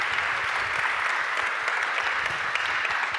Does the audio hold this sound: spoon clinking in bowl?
no